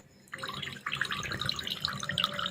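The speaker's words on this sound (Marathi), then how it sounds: "आता कमीत कमी पाच मिनिटं पूर्ण पाणी असं निथळून घ्यायचे" Soaked moth beans drain in a steady trickle of water that runs and patters continuously at close range, with small droplet splashes, and no voices.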